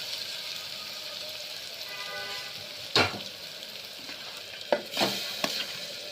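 Chicken pieces hit a hot pan of fried ginger and garlic, giving a steady frying hiss with a few sharp clatters and thumps of stirring near the end, close by and moderately loud.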